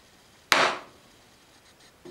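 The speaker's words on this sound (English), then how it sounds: "I can do a fair amount of chopping on this without any issues" A single sharp wooden knock, like a chisel struck while chopping a mortise on a woodworking workbench, rings close and loud, then decays quickly into quiet.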